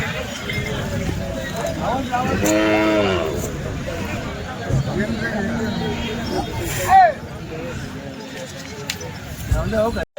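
Khillar bulls low and moo at a busy cattle market in Chalisgaon, Maharashtra, amid an outdoor crowd, with steady chatter and hubbub throughout.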